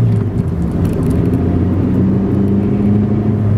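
Citroen C2 car with a 122 hp engine accelerating, a steady loud engine drone with low rumble that holds throughout.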